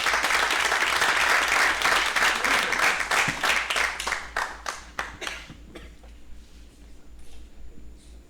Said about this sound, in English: give Goodwin a round of applause, please